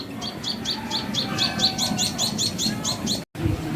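Sparrow chicks in a nest tucked inside a garden plant give rapid, repeated high-pitched chirps in a steady run, fairly close and clear over a low background murmur, ending with a brief dropout.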